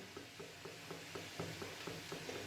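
Fenugreek seeds frying in hot oil with golden garlic and three dried red chillies for Punjabi kadhi, a steady close sizzle broken by regular light clicks of stirring.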